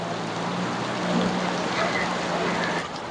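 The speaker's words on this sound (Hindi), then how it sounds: "बम्बई में बारिश स्टार्ट हो गया अभी।" Heavy monsoon rain falling in Mumbai in the early morning, a dense continuous roar of downpour close by with a faint low hum, steady from start to finish.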